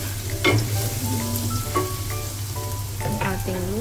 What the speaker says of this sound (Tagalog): Lagay ulit natin yung ating fresh na bawang.